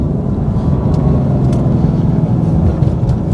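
A Hennessey Super Venom H850 Dark Horse Mustang with 850 horsepower accelerating: a loud, deep, continuous engine roar heard from close by, steady and throaty throughout.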